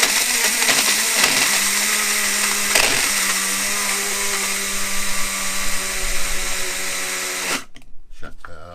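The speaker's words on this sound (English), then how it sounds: "Just break it up in your little grinder there." A small electric grinder runs while cooking spaghetti bolognese, giving a continuous high whirring whine that holds for several seconds before abruptly stopping.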